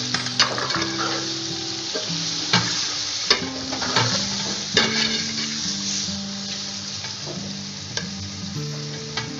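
Chicken pieces sizzle in a hot pan for yakhni pulao while a utensil stirs them, scraping and knocking against the metal in repeated strokes. The frying hiss stays close and steady, with no talking.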